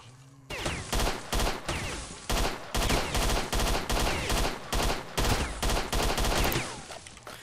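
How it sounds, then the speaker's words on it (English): Enemy gunfire in S.T.A.L.K.E.R.: Shadow of Chernobyl comes as loud, dense volleys of rapid shots. Bursts overlap and repeat almost without pause through the whole stretch. "Stop shooting at me, dude."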